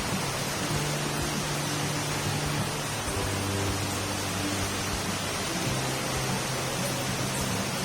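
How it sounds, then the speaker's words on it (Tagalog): Heavy rain pours during Typhoon Hanna in a flooded garden with toppled plants. It is a dense, constant roar that stays loud and even throughout, with a faint low hum beneath and no voices. "Grabe, ulan."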